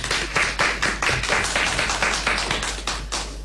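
A small group claps in a radio studio, a close, rhythmic run of about a dozen distinct claps at an even pace over a low steady hum.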